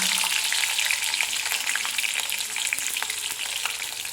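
Cumin, mustard seeds and chili sizzle and crackle in hot oil for spicy vermicelli upma, a steady close frying hiss with scattered pops and no talking.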